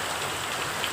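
Rain falls steadily on a village, a dense, even hiss of drops on surfaces heard up close with no voices.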